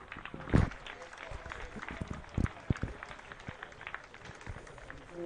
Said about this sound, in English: And of course your applause for the bad boys of the Pirates, Rafi and Finn.